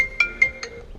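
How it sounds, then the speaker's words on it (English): A mobile phone ringtone sounds inside a 1990 Honda Civic hatchback as its radio is tested: a steady electronic tone with three quick repeated beeps, clear and close. "some of my phone's ringing"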